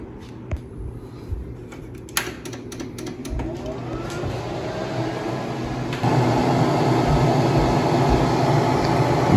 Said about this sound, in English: Machine is calibrating itself right now.